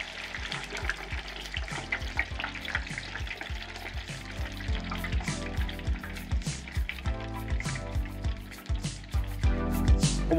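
A batch of 450 grams of fries plunged into hot oil bubbles and sizzles steadily, a dense, loud frying crackle that continues without pause.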